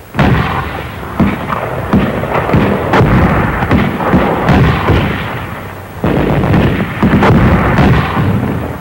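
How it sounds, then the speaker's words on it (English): Mortar fire covering an infantry advance on a coral island in the Marshalls, 1944, in newsreel sound: a dense, loud barrage of booming blasts and crackling bursts follows one another without pause. "They covered their advance with mortar fire."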